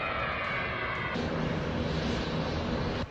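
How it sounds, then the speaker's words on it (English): British Airways airliner roaring on takeoff at night, a dense, steady engine rush heard at a distance with a rising whine early on, then a broad continuous roar, no voices. "At 11:10 p.m. and the British Airways flight is airborne."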